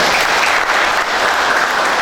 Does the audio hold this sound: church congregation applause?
yes